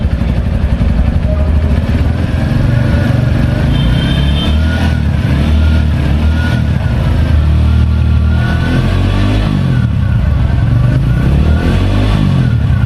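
A small 110cc motorcycle engine runs steadily close by, its exhaust putting out a continuous low, throbbing drone with slight shifts in pitch as it revs.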